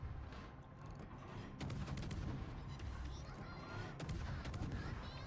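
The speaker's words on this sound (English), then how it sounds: "we're gonna shoot at this Tirpitz" Naval guns firing in a warship battle game, aimed at the German battleship Tirpitz: a dense, continuous roar of gunfire and booms with sharp louder blasts near 1.6 and 4 seconds, constant and close.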